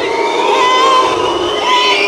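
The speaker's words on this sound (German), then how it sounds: "das Publikum boot" A large crowd boos loudly and continuously at a boxing fight night in the Sporthalle Alpenstraße in Salzburg, a dense sustained roar with no clear voices standing out.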